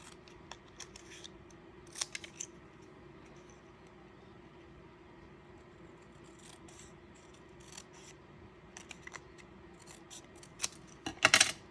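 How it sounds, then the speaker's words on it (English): Scissors trim a paper strip for a card, giving faint, sparse snips over a quiet room hum, ending in a brief cluster of crisper, louder cuts. "I'm just going to cut it a little bit smaller."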